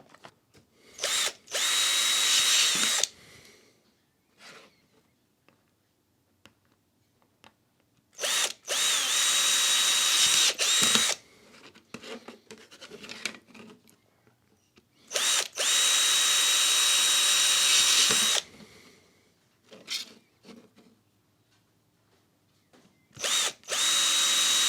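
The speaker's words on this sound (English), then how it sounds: "So let's drill some 4mm holes." A power drill drilling 4mm holes whines in three long bursts, each a few seconds, with quieter handling clicks and bumps between them.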